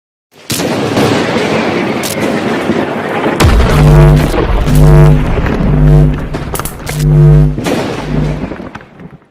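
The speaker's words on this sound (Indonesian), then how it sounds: "Rusia menembakkan roket dari area sekitar pembangkit listrik tenaga nuklir" Heavy booming blasts and rumbling roars of Russian rocket fire near Europe's largest nuclear power plant, loud and close, with a drawn-out tonal whoosh and rolling echoes.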